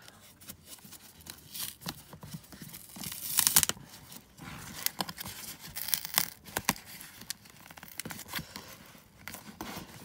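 Paper and sticky tape on a mailed parcel being torn and pulled open, with irregular crinkling rips and crunches in uneven bursts over about ten seconds, close and fairly loud.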